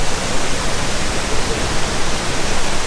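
Detian Falls waterfall in China roars as a loud, dense and unbroken wash of falling water, close and constant throughout.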